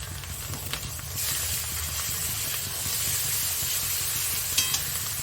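Ginger garlic paste hitting hot oil in a pan for a murg badam curry, a steady close sizzle and hiss with faint stirring scrapes and a couple of brief clinks, no talking.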